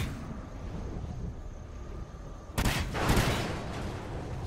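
A burst of rapid gunfire in the shooter game Extinction Point of Contact breaks out loud and sudden halfway through, after a quieter stretch of low rumble and ambient hum.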